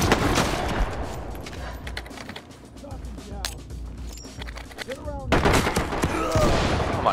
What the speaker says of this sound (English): Where am I getting shot?